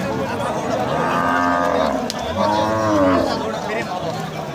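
A cow moos loudly in several long, drawn-out calls at a cattle market, with a faint murmur of people in the background.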